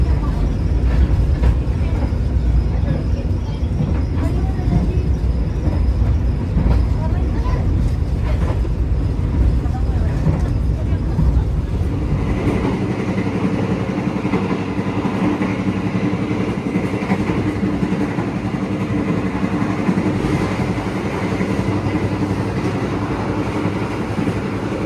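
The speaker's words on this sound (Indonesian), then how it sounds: "Kita nikmati perjalanan kali ini dengan naik kereta api Gemarang full trip hingga Pasar Senen" A long Gumarang executive passenger train running on rails toward Pasar Senen, heard from inside as a constant loud rumble and rattle of wheels with rhythmic clicks, shifting to a quieter, smoother tone about halfway through.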